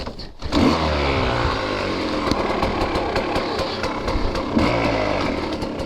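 A KTM 300 XC-W dirt bike engine catches and fires up, then runs at a brisk, buzzing, slightly uneven idle, loud and close with small throttle surges throughout.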